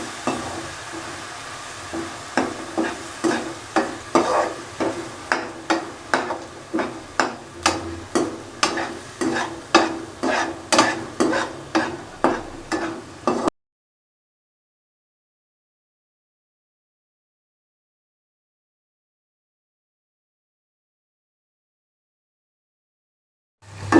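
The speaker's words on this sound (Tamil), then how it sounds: "நல்லா அடி பிடிக்காத அளவுக்கு கிண்டி விட்டுக்கலாம்." Masala for crab rasam is stirred in a pan, giving a steady run of roughly twenty sharp scraping strokes over about thirteen seconds, each with a light sizzle. Near silence follows to the end.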